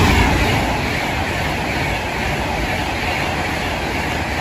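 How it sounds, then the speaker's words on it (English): Passenger train 39127 running from Manchester Piccadilly to London Euston passes through Nuneaton station, a steady loud rumble of wheels and rail noise filling the whole stretch without any voices. "first up for 4 is 39127 going from Manchester Piccadilly to London Euston"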